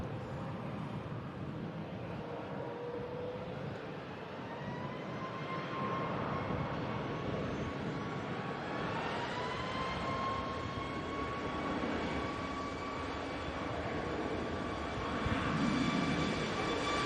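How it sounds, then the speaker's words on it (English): A Ryanair Boeing 737 takes off in a long, steady jet roar with a rising engine whine, heard from a distance as it swells slightly and holds. "And off goes that Ryanair 737."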